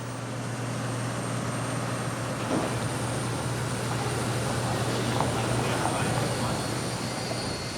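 Britannia airliner on flight BY006 to Mahon preparing to depart at Bristol Airport, a steady engine drone with a low hum that holds throughout at moderate, constant loudness, with faint background activity and no clear speech.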